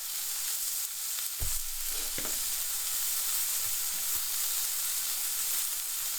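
Aldi Louisiana BBQ steak frying in a pan gives a steady, fairly loud sizzle throughout, with a few soft clicks and knocks of handling.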